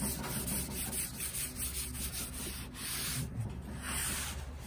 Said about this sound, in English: So I'm going to flip it and I'm going to continue wiping.